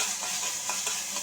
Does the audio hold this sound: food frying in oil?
yes